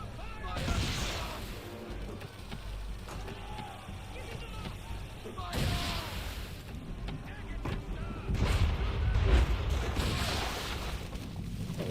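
Ship cannons firing during a naval battle in Assassin's Creed III, heavy booms at intervals with the loudest rumbling volley near the end, over wind and sea ambience while people talk throughout.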